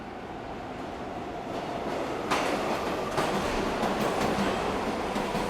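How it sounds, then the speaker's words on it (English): A train rumbles steadily through a tunnel, its roar building slightly as the wheels clatter and grind along the rails while it comes to a screeching halt. "the train came to a screeching halt unexpectedly"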